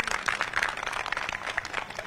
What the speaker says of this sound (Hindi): महिला शक्ति के लिए एक बार जोरदार तालियां हो जाए